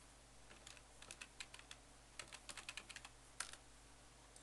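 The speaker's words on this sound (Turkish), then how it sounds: "Teamspeak yazıyoruz." Keys on a computer keyboard are typed in short quick bursts of soft clicks, close but quiet over a low background hum.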